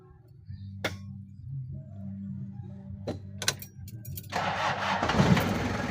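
A car engine cranks and catches, roaring to life after a few quiet clicks and knocks, then settling into a steady running rumble near the end.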